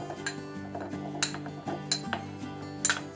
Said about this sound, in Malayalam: അത് ഞാൻ ഈ മിക്സിയിലെ ബൗളിലേക്ക് ഇട്ട് കൊടുക്കുകയാണ്.